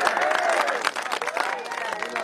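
An audience claps at a Punjabi poetry mushaira, the applause rippling and uneven with crowd murmur and voices mixed in, fairly close and sustained.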